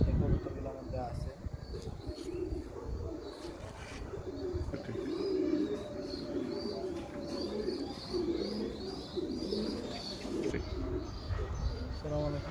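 Pigeons coo softly and repeatedly in a loft, with occasional chirps and a faint flutter of wings, while people talk quietly nearby.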